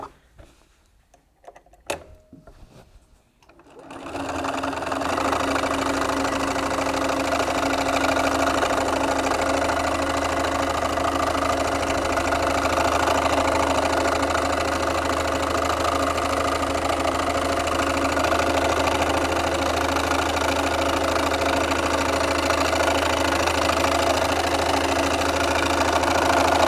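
A sewing machine quilts wavy lines across an old quilt, a loud continuous close-up motor hum and rapid needle chatter running steadily for over twenty seconds after a few quiet handling knocks at the start.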